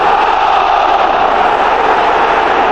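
A large football stadium crowd roaring in appeal for a handball, a loud, dense, sustained wall of shouting voices with no break.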